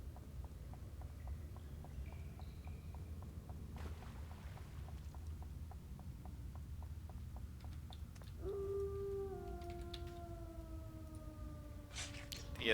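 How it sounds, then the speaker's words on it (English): Werewolf howl echoing from the boulders in the City of Heroes video game, a long, falling, wavering cry that rises out of low game ambience with regular ticking, loudest near the end. "that still freaks me out, the werewolf howl from the boulders"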